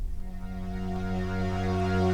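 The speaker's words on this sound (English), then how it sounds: "And then we have the strings." Sustained string ensemble patch from a Trident MkIII synthesizer, a slow-attack chord that swells gradually and holds steadily, played alone with no talking.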